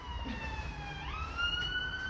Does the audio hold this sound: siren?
yes